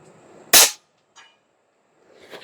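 A single loud, sharp report from an Airmaks Arms Krait PRO L .30 caliber airgun shooting slugs outdoors in wind, followed by a faint distant impact and quiet rustling.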